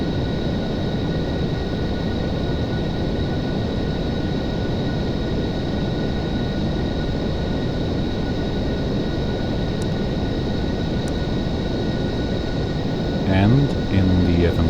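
Boeing 747 jet cruising in the Aerofly FS 4 flight simulator, a steady loud broadband engine roar with a faint whine, continuous throughout, with a brief clicking near the end and a voice speaking over it.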